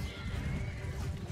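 A horse neighs amid the dense din of a Mount & Blade 2: Bannerlord battle, a steady close whinny with hoofbeats and clatter blended underneath for about a second.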